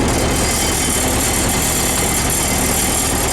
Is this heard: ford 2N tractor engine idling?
yes